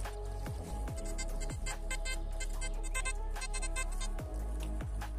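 Metal detector signal tone while digging for coins, a repeating electronic pitch with rhythmic bursts and sweeps, loud and close, no talking.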